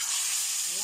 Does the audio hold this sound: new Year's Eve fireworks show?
no